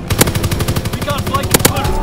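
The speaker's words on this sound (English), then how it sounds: "Strafing the target." Aircraft machine guns in a Call of Duty: WWII strafing run hammer out a fast, steady rattle of shots, loud and near throughout, with a muffled voice briefly underneath.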